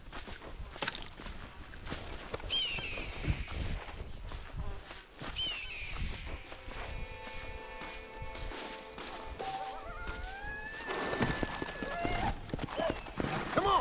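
Horse hooves clip-clop in the Red Dead Redemption video game, a steady trotting rhythm mixed with in-game crashes, ambient noise and musical tones, with a voice briefly talking over part of it.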